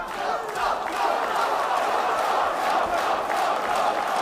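MMA fight crowd in an arena roaring and shouting steadily for a fighter in the cage, a loud continuous wall of cheering voices.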